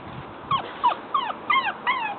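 A small pit bull puppy gives a quick run of five high, whiny yips and whimpers while chasing its tail, close and fairly loud over a faint background hiss.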